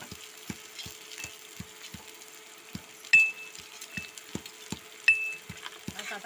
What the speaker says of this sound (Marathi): कांदा टाकून घेतला आपण आता मस्त थोडासा पिवळा होऊन द्यायचा कांदा